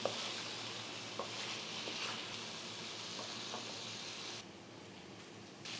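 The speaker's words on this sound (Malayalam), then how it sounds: "കുറച്ചൊന്ന് ഫ്രൈ ആയി വരട്ടെ" Chicken pieces frying in coconut oil over a medium-low flame make a steady, fairly quiet sizzle with faint pops, all alone with no voices, and the sound dips briefly near the end.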